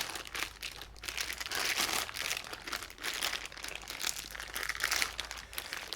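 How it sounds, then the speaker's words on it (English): Plastic bag crinkling and rustling as an almost 10-pound Costco eye of round beef roast is pulled out of its packaging, continuous close handling noise with irregular crackles throughout. "First we need to get it out of this bag."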